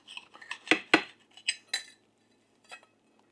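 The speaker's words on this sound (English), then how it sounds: "So we have plated this grilled cheese sandwich, and I'm about to cut it." A knife cuts through a plated grilled cheese sandwich, giving a series of sharp metallic clinks and scrapes against the plate, with two louder strikes early on and a lighter tap near the end.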